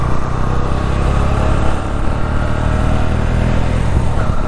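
A Honda CB125 Hornet motorcycle engine running while being ridden, a steady mid-pitched hum with constant road and wind noise, close and fairly loud with no voices over it.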